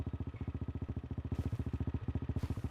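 A tractor engine idles quietly in the video game Farming Simulator, chugging in a steady, even pulse of low throbbing beats, faint and unaccompanied by other sounds.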